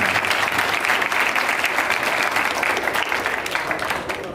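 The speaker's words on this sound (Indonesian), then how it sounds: "Tepuk tangan." A school audience at SMA Negeri 3 Kota Gorontalo claps through a visit by the district military commander: dense, loud, sustained applause with no voices over it, easing slightly toward the end.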